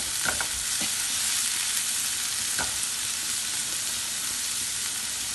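Carrots and mixed vegetables for egg rolls sauté in a hot pan, giving a steady close sizzle with a few spatula scrapes and stirs and no voices.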